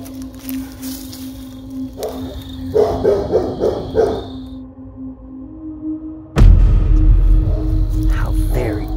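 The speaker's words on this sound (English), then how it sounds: "this dog will be muffling our noise with its loud, obnoxious barking" A dog barks loudly in short bursts, the barks close and harsh, alternating with quieter stretches and a sudden loud rumble near the end, with some voice sounds mixed in.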